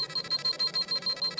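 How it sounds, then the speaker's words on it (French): A Dragon Ball Z scouter detector alarm goes off in rapid, evenly pulsed electronic beeps, about nine short high tones in under a second and a half, loud and close. "l'alarme de mon détecteur s'est déclenchée"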